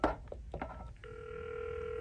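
Panasonic cordless phone base producing a few short touch-tone dialing beeps, then a steady two-tone dial tone that holds to the end, close and clear with faint handling sounds.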